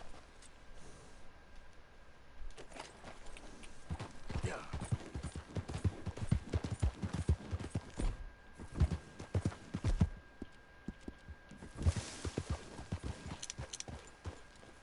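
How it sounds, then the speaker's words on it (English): Two horses' hooves clip-clop steadily at a walking pace in Red Dead Redemption 2, a dense run of hollow knocks that lasts throughout, with some background noise underneath. "Ooh, there's 2 horses now."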